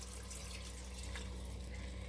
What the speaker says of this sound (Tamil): இப்போது தண்ணி ஆட் பண்ணிக்கலாம்.